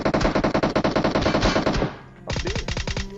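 Rapid bursts of suppressed VSS rifle fire in a video game, a fast rhythmic string of loud close shots, a brief pause, then a second quick burst.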